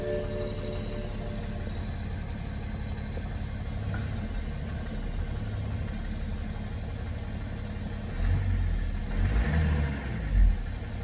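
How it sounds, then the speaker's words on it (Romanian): BMW X5 E70 engine running at a steady idle, a low continuous hum with slight rises in rumble near the end, heard from inside the car. "Ia să pornim motorul."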